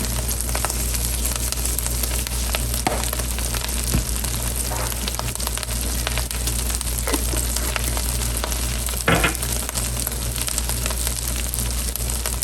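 Kale sautéing in a pan with red pepper flakes, salt and pepper gives a steady, dense sizzle and crackle lasting the whole stretch, close and even, with scattered pops and no talking.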